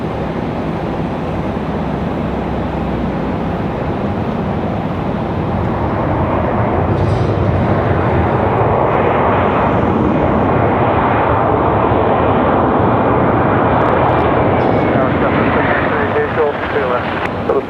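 Small aircraft doing a touch and go on runway 23 right at Raleigh-Durham, a loud continuous engine drone growing stronger over time, with radio-style speech running beneath it.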